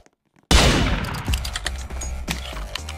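Sudden gunfire in a Roblox game bursts in after a near-silent moment: a loud opening blast followed by a rapid scatter of shots and metallic clangs that trail off over a few seconds.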